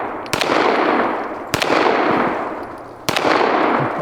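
Three loud gunshots from a 1911 pistol chambered in 30 Super Carry, fired at a cinder block about a second and a half apart, each a sharp crack followed by long outdoor reverberation, close and alone.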